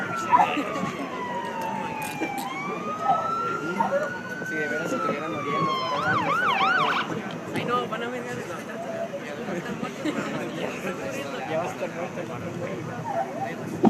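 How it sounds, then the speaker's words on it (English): A police car siren wails and yelps with rising and falling sweeps, loud and close at first, then fading into the background behind ongoing talk and street noise. "That's my police car."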